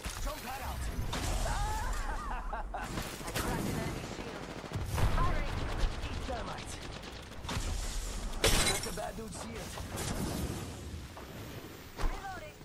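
Enemy fire in an Apex Legends match, heard as scattered gunshots and cracking impacts at moderate distance, with voices talking throughout.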